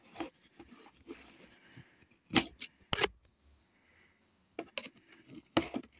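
A few sharp crinkly snips and rustles as scissors cut stiff plastic packaging from a new laptop, in short bursts separated by quieter handling noise.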